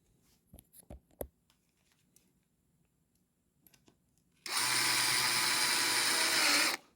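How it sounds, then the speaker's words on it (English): A power drill drives hardware into a wooden writing desk with a removable floating organizer during assembly, running loud and steady for about two seconds after a few quiet clicks and taps of parts being handled. "We're going to drill that other piece of hardware in right here."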